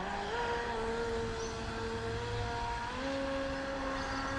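A Proboat Supersonic Wake RC boat, fitted with a Scorpion 4035 800kv outrunner helicopter motor, running flat out at full throttle, giving a steady high electric whine with shifting pitch, alone and fairly distant.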